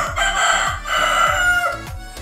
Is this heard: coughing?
no